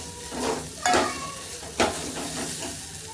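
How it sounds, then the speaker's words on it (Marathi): Hot oil sizzles steadily with a few sharp crackling bursts as spices hit the pan for a kadhi tempering, close by and fairly loud, with no talking. "आता आपल्याला मस्त अशी फोडणी द्यायची आहे"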